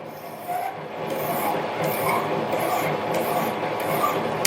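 A metal workpiece on a Harbor Freight mini lathe is deburred with a soft, continuous rasping scrape, close and fairly quiet, lasting a few seconds.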